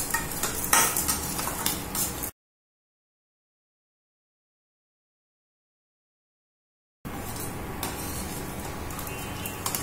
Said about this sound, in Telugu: తర్వాత మిరపగుళ్ళు, పచ్చిశనగపప్పు, మెంతులు, ఇవి కూడా ఫ్రై చేసుకోండి.